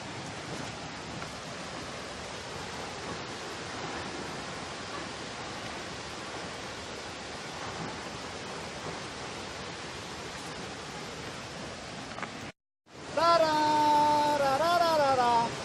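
Steady, broadband rushing of the Curug Tenang (Bedegung) waterfall at Muara Enim, South Sumatra, heard as continuous hissing roar for about twelve seconds, then a brief cut and a louder burst with voices or tonal sounds over the water.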